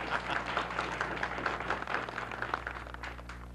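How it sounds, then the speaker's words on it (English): Audience applause for Marty and Mary Bakke, king and queen of the Polka Lovers Club of America, on a variety show, steady moderate clapping over a continuous low hum. "How about a nice round of applause for Marty and Mary Bakke?"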